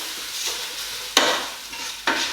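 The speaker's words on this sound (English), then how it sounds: "Give your rice a stir around" Risotto rice being stirred with thyme in a pan, a steady soft scraping and gentle sizzle with two sharper spoon strokes partway through, close by and alone.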